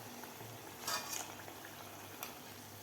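Vadas made from bharda flour fry in hot oil with a steady, soft bubbling hiss, broken by a few brief clinks of a utensil against the pan.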